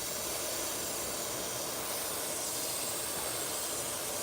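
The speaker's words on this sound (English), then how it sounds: "Let me dial it in. Airbrush mode." An airbrush sprays orange paint in a fade, giving off a steady, close, airy hiss that runs unbroken for a few seconds with no pauses.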